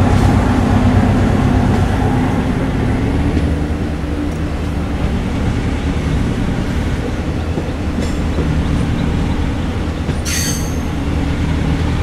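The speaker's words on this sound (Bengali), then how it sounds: "ছেড়ে দিল আমাদের ট্রেন বিশালগড় রেলওয়ে স্টেশন থেকে।" A train pulls out of Bishalgarh railway station, a loud continuous rumble of wheels and carriages with a brief high metallic squeal near the end, no voices.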